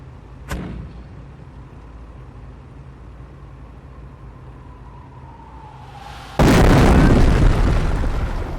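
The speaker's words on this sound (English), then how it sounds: "Order the mortar half-track to fire an incendiary barrage at the enemy infantry squad" Incendiary mortar barrage in Company of Heroes: a distant launch pop, a long descending whistle, then a loud, sustained roaring explosion and burning crackle.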